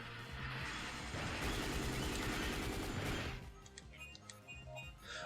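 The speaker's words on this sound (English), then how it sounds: "M60 machine gun" A continuous loud rattling burst from an M60 machine gun in Dino Crisis 2 lasts about three seconds, followed by quieter clicks and metallic ticks.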